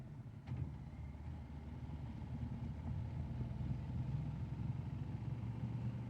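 A Yamaha Ténéré 1200 motorcycle with a new exhaust setup rumbles at a low, steady idle, a faint, deep engine throb continuing evenly with no voices.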